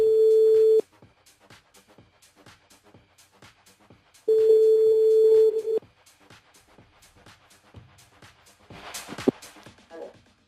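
A phone line ringing out as a French radio host places a call to a listener on her mobile: two long steady ring tones with a gap between, dialing-style clicks, and a brief sharp burst near the end.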